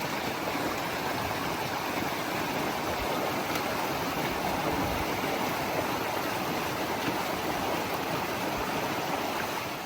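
Mountain stream water rushes at a trail crossing on the Pacific Crest Trail, a loud, continuous broadband roar of flowing water close by, steady throughout with no voices.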